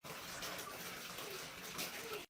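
Water poured and splashing while rinsing soap off an animal, a continuous close gushing spatter lasting about two seconds before cutting off.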